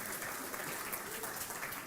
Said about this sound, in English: we should really have a loud round of applause